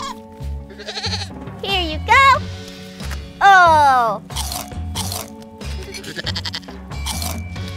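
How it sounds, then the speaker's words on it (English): Goats bleat loudly and repeatedly at close range while crunching and chewing corn on a farm, with a person talking briefly between the calls. "We can feed the goats."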